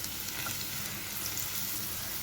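Onions and coriander frying in a pan for a broad bean tomato curry, a steady, even sizzle throughout with faint stirring and no voices.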